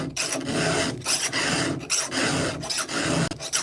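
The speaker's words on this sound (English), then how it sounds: "This is 3/16 file on a 325 sprocket, 325 chain." A 3/16 round file sharpens a .325 chainsaw chain. Close, loud rasping strokes repeat in a steady rhythm, about one every 0.8 seconds, with brief gaps between strokes and no talk.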